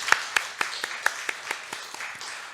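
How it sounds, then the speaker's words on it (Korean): Church congregation clapping during a Sunday worship service: about eleven sharp, evenly spaced claps in a quick steady rhythm, fairly faint and roomy, as if heard from a distance. "영광의 박수 올리도록 하겠습니다"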